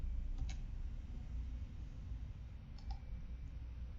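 A computer mouse gives two quick double clicks, a few seconds apart, while modeling in Wings3D; the clicks are faint over a low background hum.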